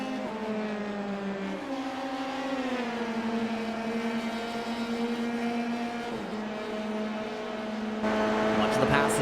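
Race cars run on a track during a Volkswagen-backed Indian racing series, their engines droning steadily with shifting pitch as cars pass close by. A commentator talks over the noise throughout.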